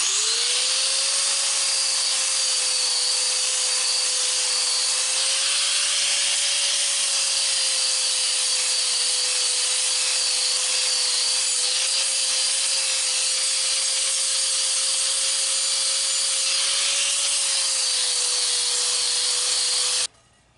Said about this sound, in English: Grinding blade or grinding flap wheel.